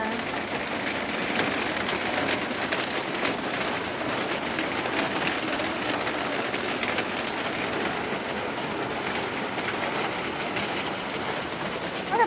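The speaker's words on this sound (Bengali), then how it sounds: "দেখে তো কি সুন্দর বৃষ্টি হচ্ছে" Steady rain pours down with a constant hiss, broadband and unbroken, with faint scattered sounds in the background.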